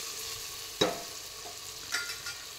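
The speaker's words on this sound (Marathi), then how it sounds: "आणि पुन्हा एकदा सर्व हे जे साहित्य आहे ते हलवून घेऊया।" A spoon stirs ingredients with red chilli powder in a frying pan, two distinct scraping strokes over a soft, steady sizzle, close and quiet.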